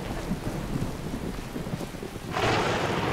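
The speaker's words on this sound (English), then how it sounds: "God, I just want to get out of this rain" Rain and thunder in the fantasy video game Skyrim, a continuous hiss of heavy rain on surfaces with low rumbling thunder underneath, the downpour swelling louder near the end.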